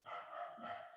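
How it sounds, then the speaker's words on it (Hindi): A dog barks outdoors in India, a single faint, drawn-out bark or howl in the distance, with no talk over it. "आपके यहाँ पे कुत्ता भौंक रहा है तो यहाँ पे भी भौंक रहा है।"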